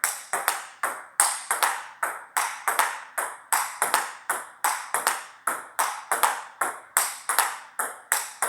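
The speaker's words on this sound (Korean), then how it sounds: "여기서 그냥 이렇게 탕탕 치는 거예요" Steady rally of table tennis ball strikes with a paddle fitted with DHS tacky rubber, crisp sharp pings about twice per second, close and loud, no talking.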